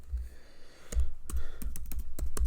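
Fingers type code on a computer keyboard, a close run of rapid key clicks that quickens into a steady patter, with a soft sigh early on.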